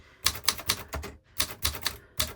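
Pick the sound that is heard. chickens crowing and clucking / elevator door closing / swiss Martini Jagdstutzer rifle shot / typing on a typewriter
typing on a typewriter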